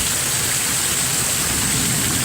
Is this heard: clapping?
no